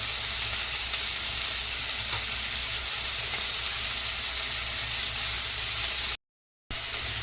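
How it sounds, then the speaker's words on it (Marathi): Onion frying in a pan for paneer bhurji, a steady close hiss of sizzling oil that runs on evenly, cut by a brief silent gap near the end. "कांदा शिजवून घ्यायचा आपल्याला"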